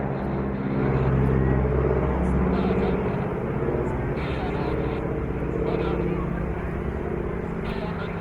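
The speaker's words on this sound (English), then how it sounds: "the immense presence of the Stearman aircraft" Stearman biplanes fly an airshow display with wing walkers at Sunderland, a loud, continuous droning engine roar that swells and fades slightly while a commentator talks over it.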